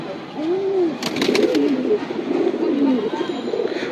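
Tournament racing pigeons give soft, rolling coos close by, several overlapping calls that swell and fade in a steady murmur, with faint voices in the background.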